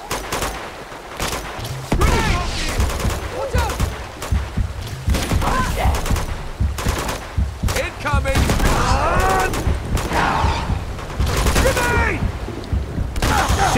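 Dense gunfire rattles almost nonstop through a firefight in Uncharted 2: Among Thieves, with bursts of automatic fire, single shots and impacts layered loud and close, while a voice talks now and then.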